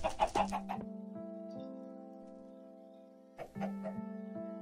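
Minecraft chickens cluck in short bursts of quick clucks at the start and again near the end, with a steady tonal game-music drone in between.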